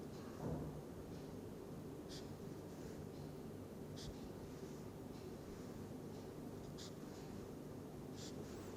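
Marker or chalk writing on a board during a chemistry lecture on molecular orbital theory, faint scratchy strokes in short bursts over quiet room noise, with no talking.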